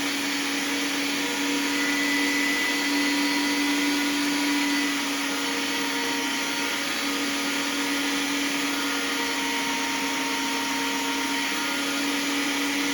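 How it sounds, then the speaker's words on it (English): Electric meat grinder finely grinding hamburger meat: a loud, steady motor whine with a constant hum, running unbroken and close up throughout. "Grind's a little tougher because it's so much finer."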